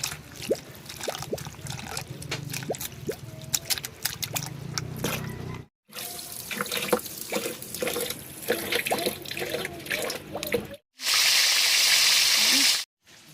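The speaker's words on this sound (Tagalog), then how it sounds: "babanlawan po rin siya mga ka-sisters matapos na napigaan" Chopped banana heart is rinsed in water for cooking, with splashing, trickling and sloshing in a basin, broken by short pauses and ending in a burst of steady running water.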